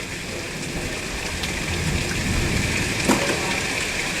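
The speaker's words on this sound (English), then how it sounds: "We are under a severe thunderstorm warning here." Heavy rain pours steadily during a severe thunderstorm warning in Stone Mountain, Georgia, a dense, loud hiss of falling water with a brief crack near the end, outdoors and with no voices.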